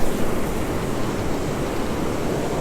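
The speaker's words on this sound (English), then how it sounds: "Not too far out, right there in the surf zone." Ocean surf rolls in the shallow surf zone at a beach during fishing, a continuous loud broadband wash with wind buffeting the microphone and no distinct breaks.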